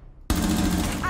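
Rainbow Six Siege gunfire erupts abruptly after a brief quiet moment, a loud sustained burst of rapid shots that carries to the end.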